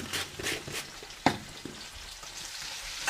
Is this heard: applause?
no